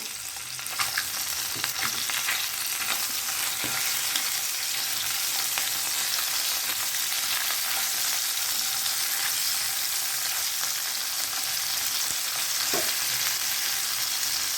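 Flipped singi fish frying in a pan of hot oil, a long steady crackling sizzle heard up close with scattered small pops and ticks and no talking.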